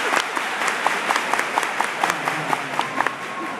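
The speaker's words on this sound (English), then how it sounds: "everybody clap your hands" A crowd of about 5,000 clapping in unison at a speech with a steady rhythmic beat, sharp repeated claps over a bed of broader applause.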